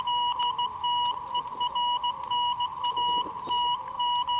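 Morse code telegraphy beeps received by a radio, a steady run of short and long tones in rapid keyed rhythm, slightly distant over a faint background hiss.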